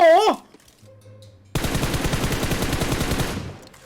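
Automatic gunfire in PUBG Mobile on a snow map: a brief voice, a short lull, then a sustained rapid burst of shots lasting a couple of seconds before cutting off.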